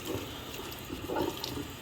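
Hot water runs steadily from a faucet into a sink, a continuous close splashing hiss with no voices over it.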